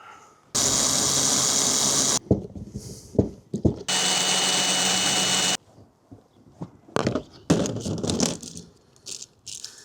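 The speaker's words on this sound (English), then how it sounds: "I'm just gonna have to pre-drill it out." Two loud bursts of a power drill drilling out screws, whirring for a couple of seconds each, separated and followed by clattering, rattling and knocks of screws and metal nearby.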